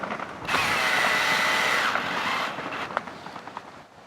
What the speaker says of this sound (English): with our cordless drill